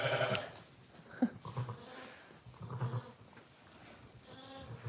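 Sheep bleat several times nearby, wavering cries coming in short bursts with brief pauses between them, fairly quiet overall.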